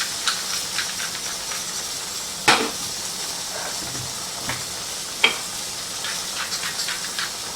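Zucchini browning in a pan gives a steady, fairly faint sizzle and hiss throughout, with a few sharp clinks from stirring standing out above it and no voices.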